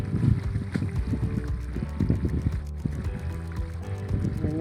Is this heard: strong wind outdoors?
yes